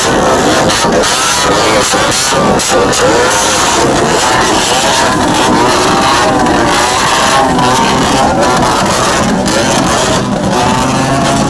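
Vehicle engines rumble and rev nearby as buses and cars move through a bus stand in Kumbhoj, a loud, continuous drone with voices now and then.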